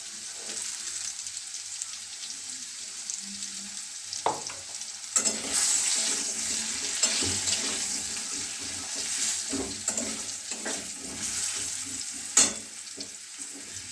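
Diced potatoes fry in a pan with a turmeric pinch added, a steady sizzle broken by scraping stirs and clinks of a utensil, with a watery, tap-like wash underneath and no talking.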